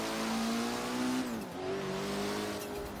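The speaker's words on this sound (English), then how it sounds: "And a little bit of turbo noise there too, which is always a bonus." A Mitsubishi Evo 8 in Forza Horizon 3 revving hard, the engine note climbing, dipping at a gear change, then pulling again, with a faint turbo whistle over the steady roar and no talk.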